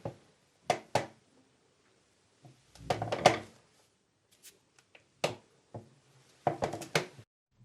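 Thumps, creaks and shuffles of a pianist shifting and jumping on a piano seat, a sparse scatter of soft, close knocks in small clusters with quiet gaps between.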